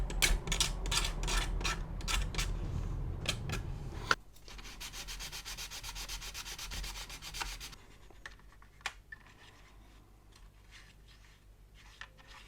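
Sanding a thin-walled plastic part from a 1/32 Special Hobby Tempest Mk V model kit: rapid rhythmic back-and-forth strokes for about four seconds, then steadier softer rubbing, ending in scattered light scrapes, all close-up.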